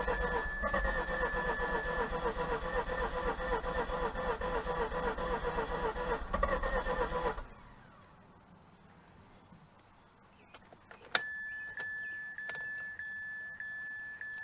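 A 2004 Mazda RX8 rotary engine cranks steadily with a busy rhythmic churn for about seven seconds, then cuts off, leaving near silence before a sharp click and a high steady electronic beep tone.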